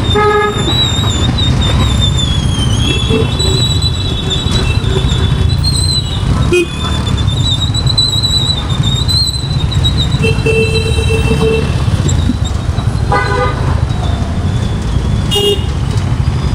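Dense night road traffic in Chennai, India, heard from a moving motorbike: a steady loud rumble of engines and wind with frequent car and bike horns honking near and far throughout.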